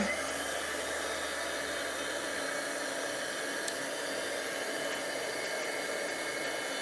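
A craft heat tool blows hot air steadily over embossing powder on a stamped card, a constant broadband whoosh lasting throughout with no speech.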